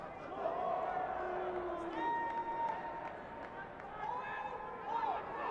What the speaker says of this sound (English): you can hear the crowd in the background that have come across from the Shire